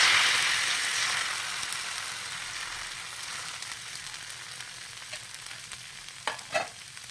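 Ghavane, a thin rice-flour batter, poured onto a hot griddle sizzles with a soft steady hiss that fades gradually, with a few faint clinks near the end and no voices.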